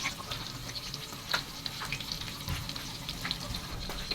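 Chili dynamite rolls fry in oil over low heat, giving a faint, steady bubbling sizzle with small crackles and pops.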